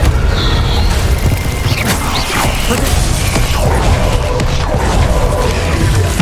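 A Repulso spell blast in Hogwarts Legacy, heard as a loud, dense rumbling boom with grinding, creaking mechanical textures under continuous game noise.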